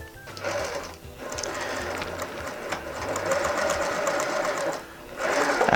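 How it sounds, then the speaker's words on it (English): A sewing machine fitted with a quarter-inch foot stitches a seam on a fabric drawstring bag, giving a close, steady mechanical whir that runs almost continuously with brief slowdowns. "So I'm going to take this over to my sewing machine."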